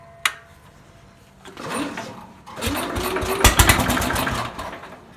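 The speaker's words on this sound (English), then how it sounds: "the last time this tractor ran, it was having carb issues, so we'll see if it even wants to run today" A 1968 Sears Super 12 garden tractor with carburetor trouble struggles to start: a sharp click, then short bursts of cranking and sputtering engine noise that briefly catch and rattle before fading, no talk.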